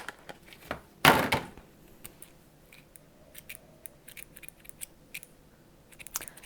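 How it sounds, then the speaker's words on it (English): Blue Ridge pruning shears snip sedum cuttings, giving one loud crisp cut followed by a run of quieter, scattered clicks and snaps from the blades, close and with no talk. "So what I'm going to do is I'm going to take some snips."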